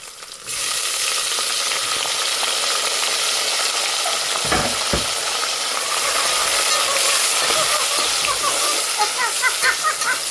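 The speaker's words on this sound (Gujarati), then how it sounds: "ચાલો હવે આપણે ટમેટા અને ડુંગળી એડ કરી દઈએ." Chopped tomatoes and onions hit a hot pan of oil already cooking ginger and garlic, then sizzle loudly and steadily while being stirred, with scraping stirs and crackles, under faint voices in a home kitchen.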